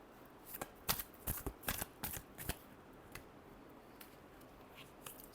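Tarot cards shuffled by hand in a series of crisp riffling bursts, close and fairly loud, with short pauses between bursts and no talking.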